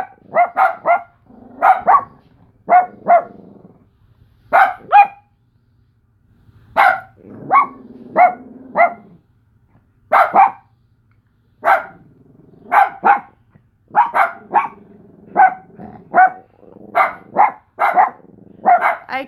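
Sustained bout of dog barking up close, repeated in quick clusters of two or three barks with occasional low whines between, continuing for the whole stretch.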